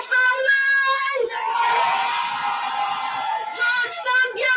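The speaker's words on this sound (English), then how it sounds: "Georgetown, make some noise!" A crowd at an open-air political victory rally in Georgetown cheers loudly, with whoops, yells and a public-address voice booming over the roar in bursts.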